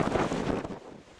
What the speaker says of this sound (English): Massive wind. Really some wind.